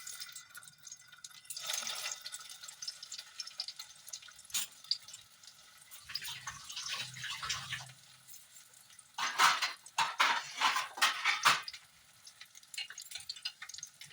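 Stuffed pointed gourds with a vegetarian spiced filling frying in hot oil, giving an irregular sizzle and crackle that swells into denser, louder bursts near the end, close by with no talking.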